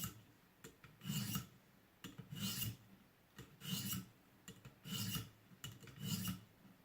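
Rhythmic rasping strokes of a recurve knife blade drawn across a ViperSharp sharpener during cleanup passes, about six evenly spaced scraping sweeps, close and fairly quiet, with no talking.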